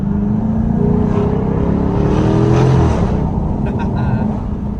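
A Jaguar F-Type supercharged V8 revs loud and close, a deep steady engine roar that builds and swells before easing off slightly, with road noise underneath throughout.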